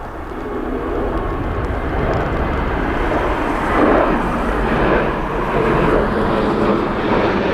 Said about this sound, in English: that's going to be an ATR coming in